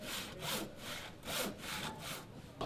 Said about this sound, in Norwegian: Når saga har fått spor, kan man flytte tommeren til trygg avstand.